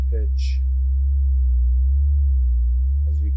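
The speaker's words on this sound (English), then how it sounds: "As you can hear, when I increase it, there is a pitch modulation on my sine wave." A steady, loud sine wave played through an Ableton sampler, its pitch wobbling under LFO modulation, sounding alone with only a few brief high chirps.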